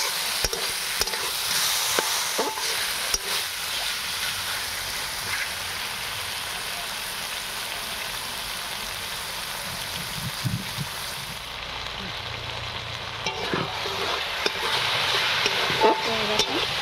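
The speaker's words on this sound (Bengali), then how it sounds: "আমি এটা ঝুড়ো বানাচ্ছি, তার জন্য এটা অনবরত নাড়তে হবে।" Lote fish fries dry in a pan for jhuri, with a constant sizzle and intermittent scraping and clinking of a spatula stirring, heard up close, moderately loud, with no speech.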